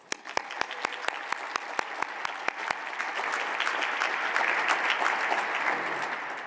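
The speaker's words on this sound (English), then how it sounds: "applause." At a university lecture, a few separate claps ring out at first, then the audience joins in and the round of applause swells into a full, even wash of clapping.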